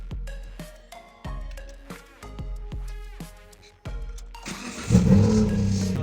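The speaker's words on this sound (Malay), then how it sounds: "Dan tu kita start enjin." Proton Waja with a Campro CPS engine cranking and firing after an oil service, a series of sharp mechanical bursts followed by the engine catching and revving up loudly near the end.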